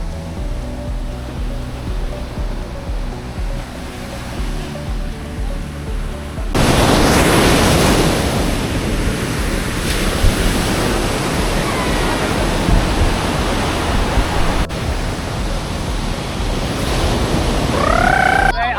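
Ocean waves crashing on RK Beach in Vizag during stormy weather, a loud continuous roar of surf that swells sharply partway through and stays heavy, with no voices heard.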